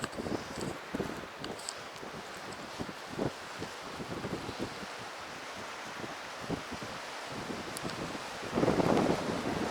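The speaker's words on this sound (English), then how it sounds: "Man, it's windy here." Strong wind sweeps a Himalayan trail in Langtang, Nepal, as a steady broadband roar with scattered crackles and thumps of gusts hitting the microphone, surging louder near the end.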